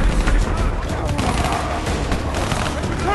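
Dense, continuous automatic gunfire from the Call of Duty Black Ops III video game, a loud sustained fusillade of overlapping shots filling the whole stretch with no clear pauses.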